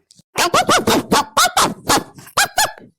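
A dog near a latrine barks loudly and close by, about ten sharp barks in a quick, uneven string, with a short voice just before.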